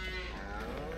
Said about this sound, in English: Look at our beautiful cattle herd out here